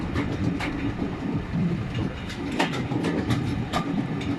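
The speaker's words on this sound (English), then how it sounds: "This is the diesel service, the D3668 diesel service." D3668 diesel train service on the Swindon & Cricklade Railway, with carriages rumbling past close by and rhythmic clickety-clack of wheels over rail joints, loud and continuous.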